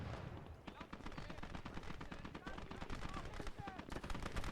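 Rapid bursts of half-track machine gun fire in the Gates of Hell: Ostfront video game, a dense, continuous rattle of gunfire, mid-distance and fairly faint.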